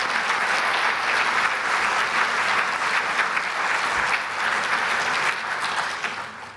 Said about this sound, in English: Please, an applause for them.